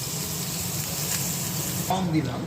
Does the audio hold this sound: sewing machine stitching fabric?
no